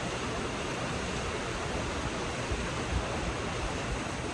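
Steady, dense rushing water roars continuously, a broad unbroken wash of falling water with no voices.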